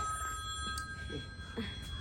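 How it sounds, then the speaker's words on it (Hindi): A telephone rings faintly in a home during a Maithili-language comedy sketch, with steady tonal ringing lines over a low background hum and no speech. "तू बार बार क्यों फोन आ रही है?"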